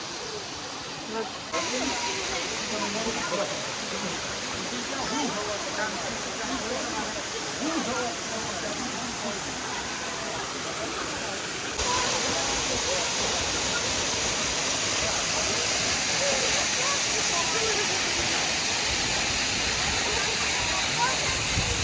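Zhenetskyi Huk waterfall in the Carpathians near Vorokhta roars as a constant broadband rush, close and loud, growing louder partway through with no talk over it.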